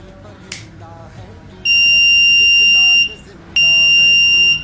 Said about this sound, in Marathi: डोळे बंद झाल्यावरतीच हा बझर वाजतो